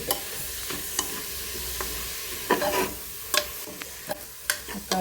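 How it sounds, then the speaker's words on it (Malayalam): Chopped tomatoes tossed into softened onions in a pan for chicken curry, giving a continuous sizzle with sharp scraping clicks of a spatula stirring at irregular intervals, close and alone. "നമുക്ക് ഇതിനകത്തിലോട്ട് ചോപ്പ് ചെയ്ത് വെച്ചേക്കുന്ന തക്കാളി ഇടാം"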